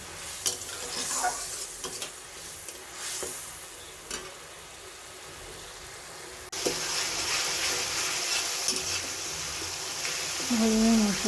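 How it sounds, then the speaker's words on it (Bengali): Spice paste with chopped tomatoes fries in a pan for a fish curry, a continuous sizzle with scraping stirring strokes that grows louder and busier after the midpoint. "এবার আমি ভালোভাবে মশলাটাকে কষাবো"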